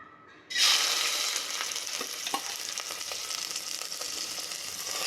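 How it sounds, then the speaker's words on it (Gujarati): Soaked rice roasting in a greased pan over low heat for Gujarati doodh pak, a steady close sizzle and crackle that starts suddenly and holds at an even level, with faint scraping stirs. "થોડી વાર ચોખાને શેકાવા દઈશું"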